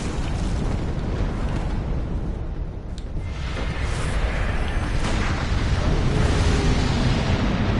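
A deep, rumbling explosion rolls on continuously in Bloodborne as an enemy detonates, a dense low roar that swells again near the end.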